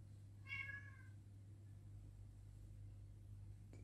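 One cat gives a short, clear meow, moderately close, over a steady low mechanical hum with no talking.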